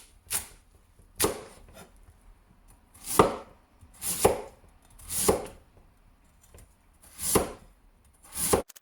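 A knife chops radish for kimchi on a cutting board: about eight crisp, close thuds spaced roughly a second apart, with quiet gaps between them.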